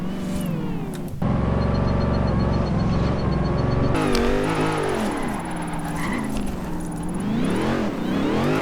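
A Dodge Challenger Hellcat engine driving in Forza Horizon 3, a steady loud drone that holds throughout and rises and falls in pitch as the revs change.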